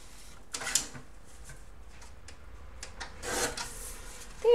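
Scissors cut about half an inch off a craft tag for a handmade card, two short close rasping snips over quiet room tone, no talking.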